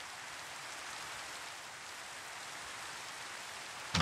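Steady rain falls in Minecraft, a soft even hiss of drops that holds at a constant low level throughout, with a short louder burst right at the end.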